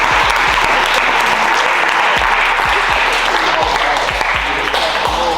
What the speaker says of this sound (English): So y'all all need to get a deserving round of applause.